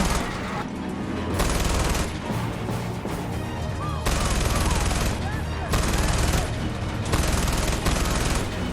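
Gunfire from a gun in the video game Far Cry 4 comes in loud, rapid automatic bursts that start and stop. The long sustained volleys alternate with brief lulls.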